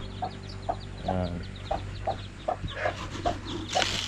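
Newly hatched native chicks give a steady series of short, high peeps at a fairly even rhythm, close by, over a constant low farmyard hum, with a brief rustle partway through.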